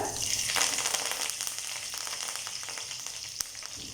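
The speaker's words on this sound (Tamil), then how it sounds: "ஆயில் நல்லா சூடானதும் கொஞ்சம் கடுகு பொரிய ஆரம்பிக்கும் போது கொஞ்சம் உளுந்து சேர்த்துடலாம்." Mustard seeds, urad dal and dried chillies crackle in hot oil in a pan, a quiet brief burst of spluttering hiss with small pops and one sharp tick near the end.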